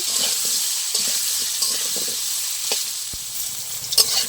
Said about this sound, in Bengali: আমার আলু আর গাঠি কচু ভালো করে লাল লাল ভাজা হয়ে গেছে